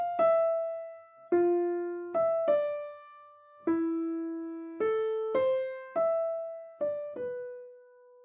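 A short melody plays as single plucked or struck tones, about a dozen notes in an uneven rhythm, each ringing and decaying. It is clean and alone, with no voices.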